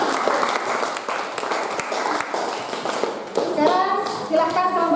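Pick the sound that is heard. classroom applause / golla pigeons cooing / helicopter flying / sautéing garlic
classroom applause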